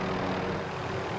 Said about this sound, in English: Oh, that's our airplane.